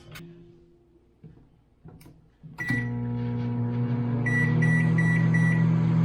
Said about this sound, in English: So, and then I'm going to put it in the microwave